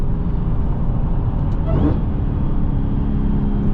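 A new Dodge car's engine rumbles loudly and steadily, with a brief change in pitch partway through as it downshifts under a bridge.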